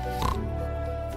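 A pig oinks in a short, nasal grunt that rises briefly near the start, over a steady low background hum.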